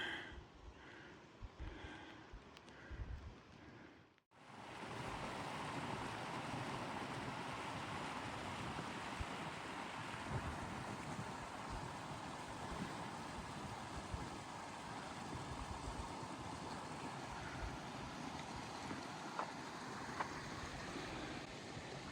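Steady rushing water noise from Cochetopa Creek in Colorado, fairly loud and continuous, with a brief drop to near silence early on before the flow resumes.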